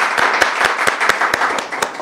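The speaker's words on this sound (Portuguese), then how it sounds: "Uma salva de palmas." A small group claps in an indoor studio: sharp, loud, fairly regular claps, about nine in two seconds, with no voices over them.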